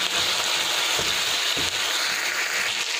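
Chicken curry with roast masala and Kashmiri chili powder stirred in a pan, a steady sizzle of frying with a few soft scraping strokes of the spoon.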